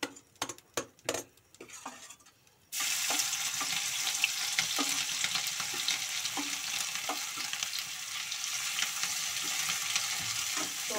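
Blended chili, garlic, ginger and onion paste with tomatoes hits a hot pan after a few sharp knocks, bursting into a loud, steady sizzle with scattered stirring clicks that continue to the end.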